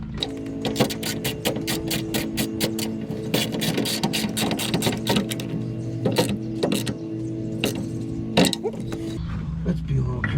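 Bolts on the bed rails of a 2020 Jeep Gladiator are cranked tight with a power tool, giving a steady whirring mechanical run with repeated clicks and ticks close by.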